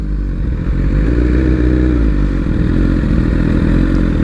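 Up close, a sport motorcycle engine, a BMW S1000RR or Kawasaki ZX-10R, revs loudly, its deep rumbling growl and mechanical clatter holding steady throughout.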